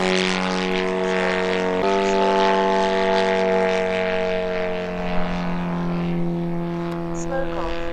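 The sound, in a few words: 47% Pitts Special model airplane engine running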